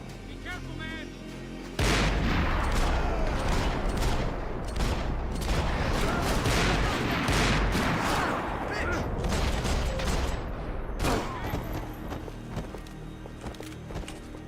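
Relentless gunfire fills a Max Payne 3 firefight after a brief lull: dense, overlapping bursts of rifle and automatic fire with booming impacts, loud and continuous, with a few sharper standalone shots near the end.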